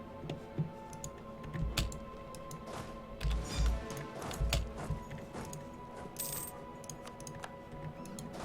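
Keyboard hotkeys tapped on a computer keyboard during a strategy game, a scattering of faint irregular clicks and taps with occasional heavier key presses.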